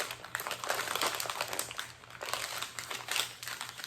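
Paper and leaf wrapping being folded around pasteles, with close, continuous crinkling and rustling that swells and dips as the wrapper is creased down.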